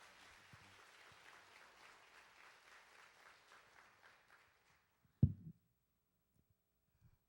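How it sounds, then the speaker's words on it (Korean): A church congregation at a Sunday worship service applauds to welcome the pastor, a steady patter of many hands lasting about five seconds and fading out, then a single loud thump near the end before silence. "우리 목사님 나오실 때 사랑합니다, 환영합니다. 큰 박수 보내주시기 바랍니다"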